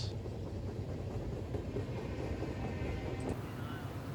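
Norfolk Southern Conrail Heritage Unit freight train rushing past at Chesterton, Indiana, a steady close rumble of rolling cars with faint clatter, continuous and loud throughout.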